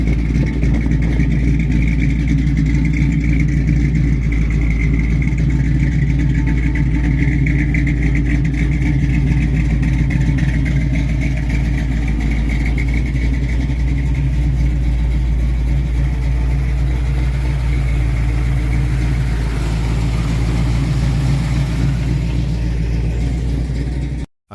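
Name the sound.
1965 Ford Mustang Coupe upgraded V8 engine running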